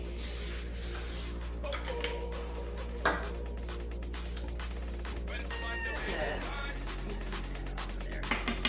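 Cooking spray hisses onto a baking pan to grease it for carrot cake, a few short bursts in a kitchen with clinks of the pan and a low background hum.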